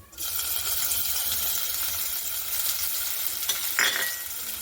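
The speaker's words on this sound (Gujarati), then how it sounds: "હવે મેં અહીંયા મરચું અને લસણ બંને લીધું છે તે આપણે વઘાર કરી લઈશું" Green chili and garlic tempering in hot oil in a pan, just after curry leaves: a loud, dense sizzle bursts in and holds steady close by, with a small metallic clink near the end.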